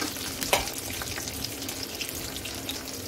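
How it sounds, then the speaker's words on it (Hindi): Fish fries in a hot pan with a steady, low crackling sizzle throughout, broken near the start by a brief scrape or stir; no one speaks. "ये देखिए, ये मेरा फिश है, अच्छे से फ्राई हो चुका है।"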